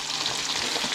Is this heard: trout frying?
yes